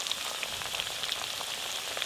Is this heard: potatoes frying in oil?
yes